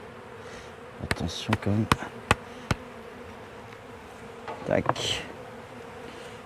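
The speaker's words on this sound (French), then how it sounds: "Et donc j'ai ce cadre à mâle avec quelques abeilles dessus." Honeybees buzz around a drone frame during a hive inspection, a soft intermittent hum with a few sharp clicks and knocks as a person speaks quietly nearby.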